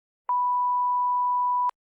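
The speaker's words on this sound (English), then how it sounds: "If so, here's your example beep." A single pure censor bleep, a steady mid-pitched tone lasting about a second and a half, loud and isolated against silence.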